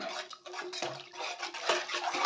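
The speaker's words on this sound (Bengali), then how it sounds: "দিয়ে দেবো একটু জল।" Water is poured into a pan of thick spiced gravy, a close splashing gush that bubbles and sputters unevenly, with brief pan knocks, and no one speaking.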